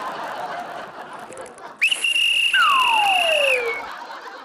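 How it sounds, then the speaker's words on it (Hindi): A shrill whistle blown loud and close, holding a sustained high note for a couple of seconds, then a second pitch slides downward as it ends, following a stretch of quieter background. "इस तरह सीटी मत बजाया करो"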